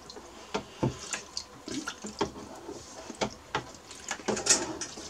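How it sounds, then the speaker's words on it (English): Tepid water runs and splashes unevenly in a shallow photo print wash tray nearby, with irregular sloshing bursts and small drips over a steady background wash. "moved that selenium laden print over into the wash, into some tepid warm water wash"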